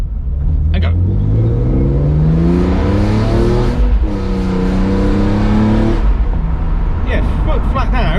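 A BMW E46 M3 with SMG gearbox pulls at full throttle in S6 with traction control off, engine rising in pitch through the gears with a short break at each shift, loud from inside the cabin with a voice talking over it.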